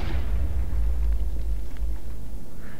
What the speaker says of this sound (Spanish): Como ven, no hace una gran explosión